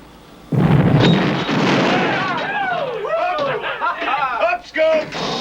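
Torpedo strike on a target in a submarine war film: a sudden loud explosion boom that rolls on for several seconds, joined by rising, bending metallic groans and creaks, with no talk over it.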